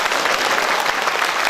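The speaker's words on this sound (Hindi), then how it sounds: "तालियां बजाइए।" Congregation applause at a church prophecy and healing festival in Agartala, Tripura: dense, steady clapping from a large crowd, loud and sustained throughout with no break.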